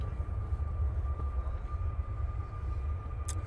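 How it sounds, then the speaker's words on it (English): A Jet2 Airbus A321neo taking off at Manchester Airport in low visibility, a loud steady low engine roar that stays fairly constant, heard from a distance with a faint thin tone above it and no voices. "Jet2, A321 Neo now blasting out."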